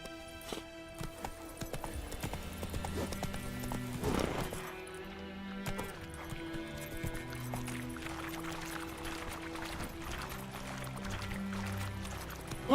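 Roach, Geralt's horse in The Witcher 3: Wild Hunt, trots along with steady rhythmic hoof clip-clops, accompanied by a short whinny and a continuous musical score underneath.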